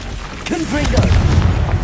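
A Confringo blasting curse bursts in Hogwarts Legacy, a deep booming explosion that swells and rumbles on for over a second, layered with game effects and a brief rising tonal whoosh.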